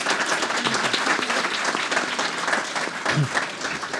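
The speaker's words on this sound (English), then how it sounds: "So why don't we all give a warm welcome to these folks and a round of applause to appreciate the Haitkin family." Warm audience applause fills a lecture hall at an NYU Stern evening lecture event, dense steady clapping from a sizable crowd at full volume, with a brief low murmur near the end.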